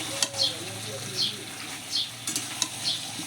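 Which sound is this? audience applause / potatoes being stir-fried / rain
potatoes being stir-fried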